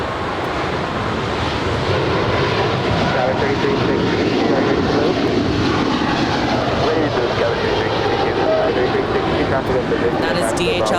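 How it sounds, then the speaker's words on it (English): A two-year-old Boeing 777 freighter of DHL Coletta Air departs Los Angeles International Airport, its broad jet roar steady and loud throughout with heavy wind noise over the microphone. "That is DHL Coletta Air 232 off to Sydney, Australia. It's a 2-year-old 777 freighter."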